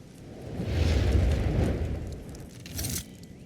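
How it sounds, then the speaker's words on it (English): Explosions in Warhammer 40K Rogue Trader come as a deep rumbling swell that builds and fades, followed by a shorter, sharper burst, all at moderate loudness with no voices. "Explosions."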